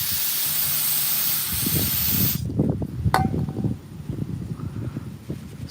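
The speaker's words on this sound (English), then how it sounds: "So I'm going to get this cleaned up a bit better with that carburetor cleaner." Carburetor cleaner sprayed onto a Honda lawnmower carburetor, a loud close aerosol hiss lasting about two seconds, followed by softer clicks, taps and handling noises of the can and parts.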